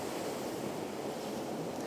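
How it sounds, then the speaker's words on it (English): Ocean water washing in toward a shoreline in a landscape setting, a steady broadband roar of surf with some wind noise on the microphone, continuous and fairly close across the two seconds with no voices. "waiting for this water to come in, which it's doing right now"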